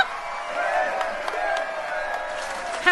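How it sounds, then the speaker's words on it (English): A crowd claps and cheers for a newly installed toilet in a bathroom in Mansfield, Ohio: a steady, dense wash of clapping and voiced cheers holding at an even level for about three seconds, with a brief rise at the end. "Everyone, give a round of applause for our new toilet."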